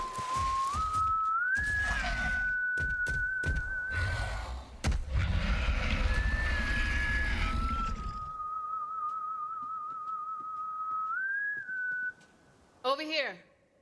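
Someone in Borderlands 3 whistles a long wavering melody, clear and fairly close, over a rumbling game ambience that cuts out partway, with a few brief voice sounds near the end.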